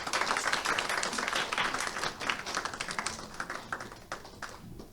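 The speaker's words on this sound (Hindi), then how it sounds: "तालियों से स्वागत करें।" An audience claps to welcome an ambassador at a Janmashtami celebration, a dense, steady burst of applause that holds strong for several seconds and then thins and fades toward the end.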